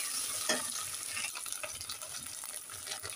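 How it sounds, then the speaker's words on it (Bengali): Ginger paste frying in a pan, a soft continuous sizzle with scraping stirring strokes, close and fairly quiet. "আদা বাটাটা যখন ভাজা হয়ে যাবে"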